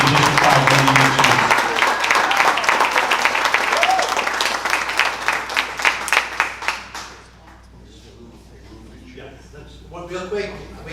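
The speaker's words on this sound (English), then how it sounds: "Let's give one more round of applause for the 2023 District 5 winning champions." Applause breaks out at a township council meeting in Town Hall, honoring a 2023 District 5 championship youth baseball team. The clapping is loud and sustained under talk, then fades after about seven seconds into murmured voices.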